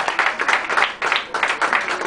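At an award ceremony, a small audience claps in short rhythmic bursts, fairly close and moderately loud, the applause briefly pausing and then resuming.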